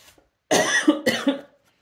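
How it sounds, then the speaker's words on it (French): Two quick, close coughs from one person, a sharp burst followed by a second slightly softer one, then silence. "je ne sais pas pourquoi je tousse comme ça"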